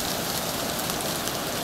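Steady rain pours down in the Caucasus mountains near Psebay, Krasnodar region, a dense, even hiss of drops on surfaces filling the whole moment, close and continuous with no voices.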